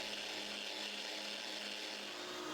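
An electric sander runs in one steady, even whir while shaping wooden stool blocks, a constant faint drone with no breaks.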